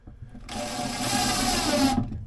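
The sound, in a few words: drill driving screws into a cupboard door hinge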